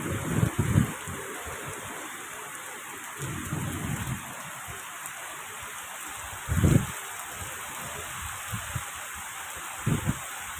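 Steady heavy rain hisses continuously, broken by several deep rumbles of thunder at irregular intervals, some near and some more distant.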